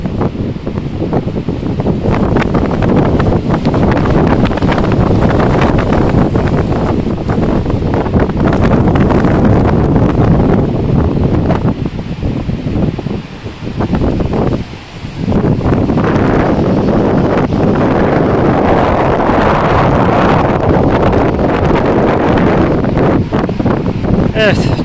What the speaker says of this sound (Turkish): Bu rüzgar işi bozuyor biraz.